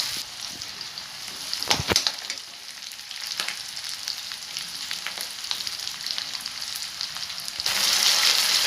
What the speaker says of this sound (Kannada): ಕಟ್ ಮಾಡಿರೋಂತಹ ಈರುಳ್ಳಿ ಹಾಕ್ತಾ ಇದ್ದೀವಿ. ಒಂದು 2-3 ನಿಮಿಷ ಫ್ರೈ ಆಗಲಿ.